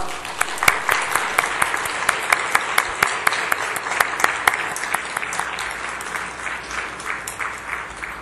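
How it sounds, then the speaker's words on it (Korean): A church congregation applauds during a Thanksgiving Sunday service, giving brisk, lively clapping with distinct sharp claps that gradually thins out over about eight seconds. "큰 박수로 한번 축복해 주시길 바랍니다"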